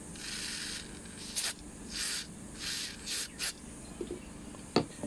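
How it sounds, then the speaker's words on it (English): Carb cleaner sprayed onto the old primer bulb of a Honda GX25 HHB25 blower carburetor gives several short, close hissing bursts, separated by brief pauses and a few small clicks. "what happens if we spray the old primer bulb with carb cleaner?"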